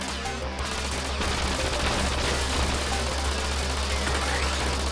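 Gun Force, a 1991 arcade shooter, rattles out continuous automatic gunfire over its constant electronic background drone, a dense, steady fusillade with a few sharper bursts near the start.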